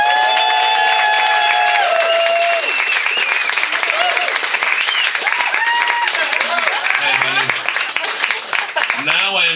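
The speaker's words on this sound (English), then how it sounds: "I want to get a little bit of a round of applause." Audience clapping for a speaker in a room, applause mixed with cheering and whooping voices, lively and fairly loud, fading slightly toward the end.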